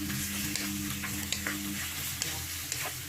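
Squid frying in oil in a pan for adobong pusit, a steady close sizzle with occasional clicks and scrapes of stirring, no voices.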